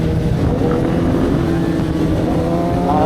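A motorcycle engine roars steadily and loudly on a downhill road, staying close and continuous throughout.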